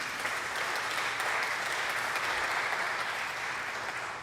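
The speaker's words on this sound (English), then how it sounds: "you can give them a hand if you want" An audience applauds guitar players at a benefit concert, steady clapping from many hands filling the room throughout without a break.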